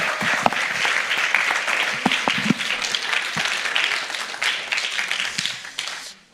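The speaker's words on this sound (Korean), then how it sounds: "우리 다시 한번 우리 환영의 박수를" A church congregation at a Wednesday prayer meeting gives welcoming applause, steady clapping with a few sharp individual claps standing out, gradually fading and then stopping at the end.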